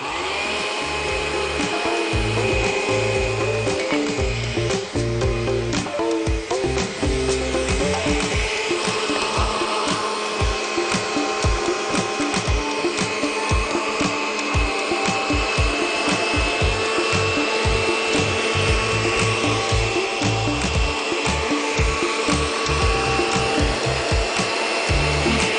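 An electric blender whirring as it blends arugula with water for juice, a continuous loud motorized whine with shifting pulses as the leaves churn, running steadily alone without talk.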